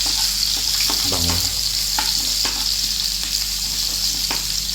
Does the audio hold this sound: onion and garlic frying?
yes